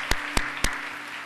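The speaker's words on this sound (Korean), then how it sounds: "우리 다시 한번 하나님 앞에 영광과 감사의 박수 올려드리도록 하겠습니다." Three sharp, evenly spaced claps ring out loudly inside a church during a Sunday worship service, with a low room hum behind them.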